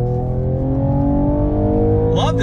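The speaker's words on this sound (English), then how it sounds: "every time there's a shift, there's a nice pop coming from the exhaust." A 2020 Mercedes-AMG CLS 53 with all-wheel drive accelerates hard, its engine and exhaust droning loudly and rising steadily in pitch, heard up close with a sharp shift near the end.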